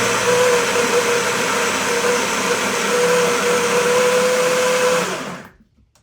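An electric coffee grinder on setting 6 grinds 19.6 grams of Nicaraguan coffee beans with a loud, steady whir for about five seconds, then spins down and stops.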